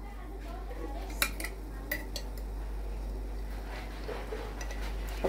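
A metal spoon clinks against a pot of sugar syrup for basbousa as a spoonful of ghee goes in, a few sharp, scattered taps over a steady low background hum.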